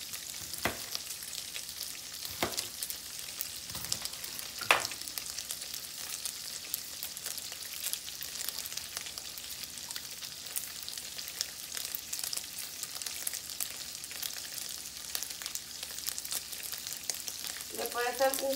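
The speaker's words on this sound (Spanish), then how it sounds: "Le puede ser una cucharada más de sofrito. Sigue friéndose ahí" Onion and sofrito fry in a pan with a continuous close sizzle and spatter, a few sharp clicks of a utensil, and a short stirring scrape at the end.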